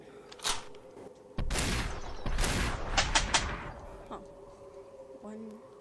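Gunfire in the VR game Superhot VR, a cluster of sharp overlapping shots and bursts with a sudden loud onset, trailing off into quieter clatter and a brief voice.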